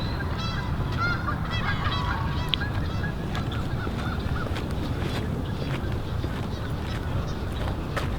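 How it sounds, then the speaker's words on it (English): Waterfowl call repeatedly across open water, a series of nasal honking calls in the first few seconds over a steady wash of ambient noise, then fainter scattered calls continuing near and far. "Usually those ducks, they go in couples, and I see one couple right here."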